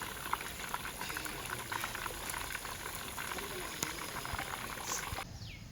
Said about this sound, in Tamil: அப்படியே திருப்பி போட்டு எல்லாம் பொன்னிறமாக அப்படியே வறுத்து எடுத்துட வேண்டியது தான்.